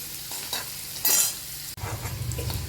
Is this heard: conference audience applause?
no